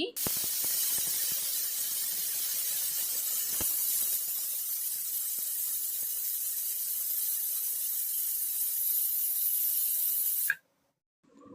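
A pressure cooker boiling lentils hisses out steam in a loud, continuous spray that runs steadily and then cuts off sharply near the end.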